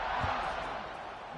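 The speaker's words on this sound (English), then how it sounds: "this crowd is buzzing after that last score" A dense, steady roar from a large football stadium crowd buzzing after a score, loud and continuous throughout with no distinct individual voices standing out.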